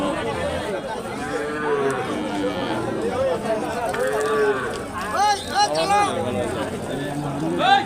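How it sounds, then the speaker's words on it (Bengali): Cattle and bulls at a livestock market moo in long, rising and falling calls from several animals nearby, amid the chatter and babble of people. "এই বাজারে পর্যাপ্ত পরিমাণে গরুর ব্যবস্থা আছে"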